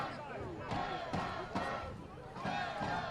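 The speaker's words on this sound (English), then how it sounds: "Crowd here in Sarasota getting on their feet," Soccer fans in Sarasota rise and roar during a match, a broad crowd swell with repeated surging shouts over a steady background din, moderately loud and a little distant.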